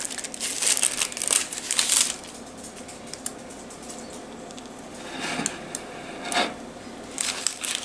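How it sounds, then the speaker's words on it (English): Transfer paper being pulled off a cooled heat-pressed mug: close crinkling and peeling bursts at the start, a quieter stretch, then further short crackly peels. "So now we're going to pull off our paper."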